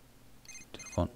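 A telephone ringing inside The Sims 3 video game, a short electronic ring with bright tonal bursts, followed by a louder sound near the end, fairly quiet overall.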